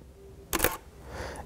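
A camera shutter fires once, sharp and close, while shooting at aperture f/1.8 under video lighting, followed by a quieter mechanical sound about half a second later. No one speaks.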